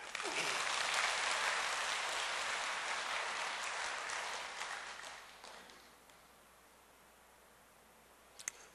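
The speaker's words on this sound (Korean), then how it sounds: "박수 좀 해" A church congregation applauds loudly during a sermon. The dense clapping swells at first, then gradually thins and dies away to near silence, followed by a faint click at the end.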